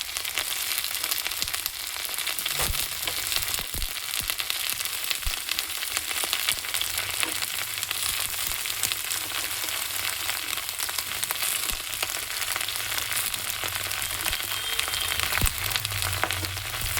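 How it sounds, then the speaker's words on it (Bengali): Cauliflower and potato frying in a pan for a spring-onion dish, a steady low sizzle running throughout with a few scraping stirs, close and moderately quiet, no voices. "যখন এই দুটো যখন একটু ভাজা হয়ে যাবে ফুলকপি আর আলু"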